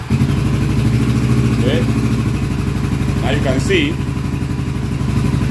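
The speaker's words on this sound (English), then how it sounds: "I will start the motorcycle again." A motorcycle engine idles steadily just after starting, a close, low, rhythmic putter running throughout while someone talks over it and faint clicks and beeps come through.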